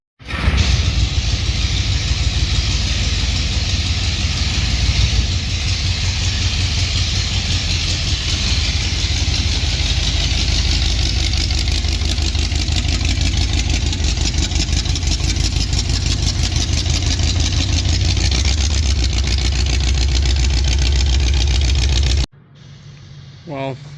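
The engine of a 1976 Mercury demolition derby car runs steadily at a loud, rough idle for over twenty seconds, close by, then cuts off abruptly, leaving only a faint sound behind.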